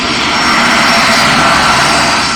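A Pan Am jet airliner moves slowly along a runway, its engines producing a loud, steady roar with a high whine riding on top, continuous and close throughout.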